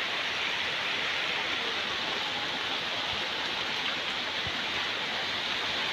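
Heavy rain pours steadily near newly built houses, a dense, loud, even hiss of downpour with no letup and no voices.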